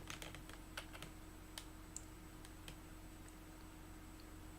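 Computer keyboard typing in a quiet room, a sparse run of distinct key clicks with a few irregular gaps over a steady low hum, no talking.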